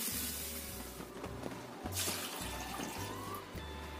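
Rice vermicelli soaking in cold water is pressed down by hand, producing close splashing and sloshing with soft squelches in an uneven rhythm, over a low intermittent hum.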